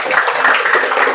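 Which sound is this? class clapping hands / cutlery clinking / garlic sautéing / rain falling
class clapping hands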